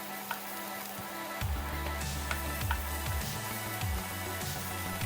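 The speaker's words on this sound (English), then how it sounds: "That is fresh ginger cut up nicely and sizzle sizzle." Fresh cut ginger and garlic sizzle steadily in hot oil on an induction cooker, a continuous close frying hiss with low bubbling pulses and faint stirring, no talk.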